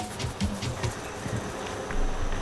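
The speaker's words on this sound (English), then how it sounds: "I'm hearing a lot of buzzing." Insects buzz steadily around flowers outdoors, a low continuous hum with small bursts rising and fading close by, alone with no talking.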